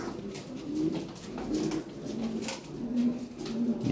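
A pair of Lahore Siraji pigeons coos in soft, repeated low throaty phrases, close by and fairly quiet, against a faint steady background with no talking.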